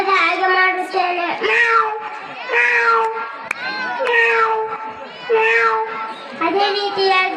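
A government-school boy imitates a cat with his voice, giving a run of five or six drawn-out, wavering meows in steady succession, close and loud with no other talk.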